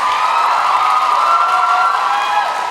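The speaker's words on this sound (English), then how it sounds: "women, please clap if you agree with me" Audience at a live comedy show at the State Theatre breaks into sustained applause and cheering, a dense steady roar of clapping and whoops that holds at full strength throughout.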